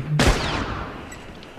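A single sharp semi-automatic sniper rifle shot in The Last of Us multiplayer, a loud close crack followed by a long fading echoing tail, with no talk over it.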